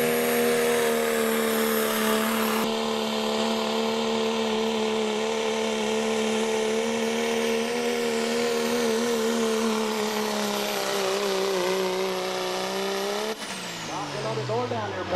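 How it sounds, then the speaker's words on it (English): At an outlaw diesel truck pull, a Dodge Cummins diesel pickup spools up and takes off: a loud, sustained whining drone with a rising turbo tone holds for over ten seconds, then abruptly drops and changes as the truck pulls away. "Spooling that Dodge Cummins up and taking off."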